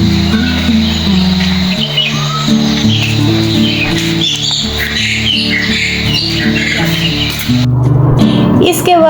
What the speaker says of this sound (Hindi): आप भी सुन सकते हैं चिड़ियों की आवाज़।